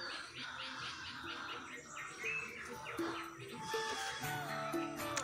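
Common myna birds chirp and call repeatedly over a busy outdoor background, several tweeting voices overlapping at moderate distance.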